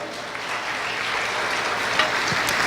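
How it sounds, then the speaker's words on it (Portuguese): A church congregation applauds during a sermon, a steady dense wash of clapping that holds at even strength throughout with no talking over it. "aplauda o Senhor"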